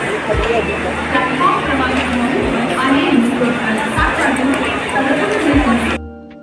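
A crowd at a train station during Ganesh Chaturthi keeps up a thick, steady babble of chatter and voices, loud and close, with low periodic thumps underneath, cutting off sharply at the end.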